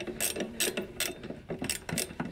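A ratchet wrench clicks in repeated bursts while loosening a rear shock bolt on a 1999 Kia Sportage, with rapid pawl ratcheting close up in a rhythmic back-and-forth pattern.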